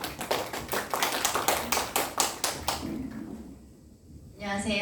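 A small audience at an evening civic education class gives a brisk round of rhythmic clapping for a committee chair, fading out after about three seconds before a quiet pause and the start of speech.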